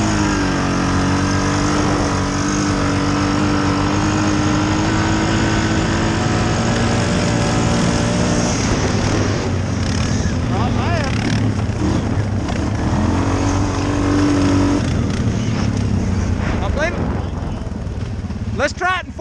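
Suzuki KingQuad 500 and 750 ATVs drag race side by side, engines droning loud and steady throughout, rising in pitch as they accelerate and shift, with a brief pause in the revving midway and roaring again near the end.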